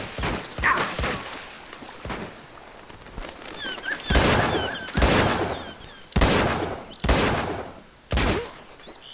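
Gunfire in the action game Uncharted 2: Among Thieves, a series of loud, sharp shots and bursts spaced a second or so apart, with quieter game sounds between them.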